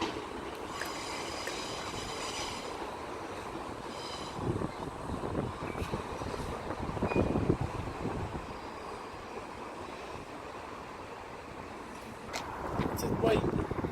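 South Western Railway class 450 unit 450033 running through St Denys station toward Portsmouth and Southsea, a rumbling passing train with wheel and rail noise that swells near the end, heard amid outdoor ambience.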